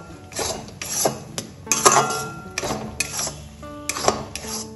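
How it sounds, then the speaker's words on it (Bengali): A spoon scraping and knocking against a pan while pea paste is stirred in oil, with repeated metallic clinks and scrapes in an irregular rhythm, close and fairly loud, no voices. "এবার পেস্ট করা মটরশুঁটিটা ভালোভাবে তেলের সাথে একটু নাড়াচাড়া করে নেব।"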